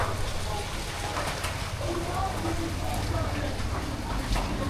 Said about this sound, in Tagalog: itong ulan na to mga katawan, grabe.